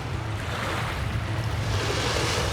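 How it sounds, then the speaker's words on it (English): Gentle, steady wash of small waves along the Lake Michigan shore on a calm day, with a soft wind rumble and no voices. "And this is Lake Michigan on a calm day."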